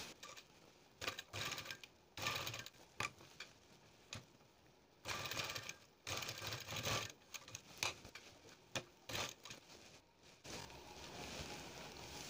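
A sewing machine stitches along the edge of a blouse back neck, running in bursts of rapid mechanical clatter separated by short pauses, close and fairly loud with no talking.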